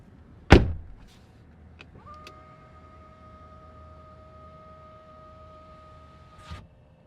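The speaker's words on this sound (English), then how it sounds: "let's shut the door" A solid door of a 2025.5 Volvo XC90 T8 plug-in SUV thumps shut nearby, followed by a few soft clicks and a steady two-tone electronic chime that stops with a faint clunk.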